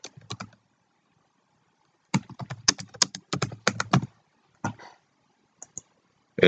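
Keys clatter on a computer keyboard as a title is typed into a library catalog search, with a short burst, a pause, then a longer run of quick, close keystrokes and a few scattered final taps.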